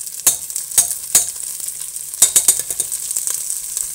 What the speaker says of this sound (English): we're going to take that and we're going to drop that right into the pot